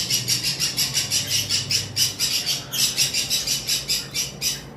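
Lovebirds, including high-mutation lovebirds, and rosella parrots in a bird shop give off a continuous flurry of shrill, rapid squawks and chirps, close and loud, with no one talking.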